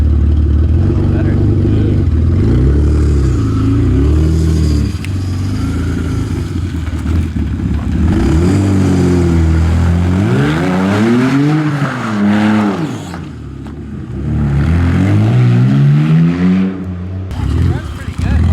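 A BMW E46 drift car engine runs and revs, its pitch climbing and falling in repeated swells over a steady loud drone, with some talking mixed in.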